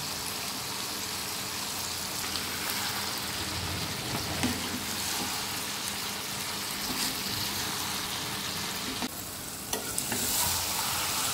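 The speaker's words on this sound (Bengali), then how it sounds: "এখন নেড়ে নেড়ে আস্তে আস্তে করে ভেজে নেব।" Prawns and pumpkin flowers frying in a pan with salt and turmeric, giving a continuous close sizzle with gentle stirring scrapes and a brief clatter near the end.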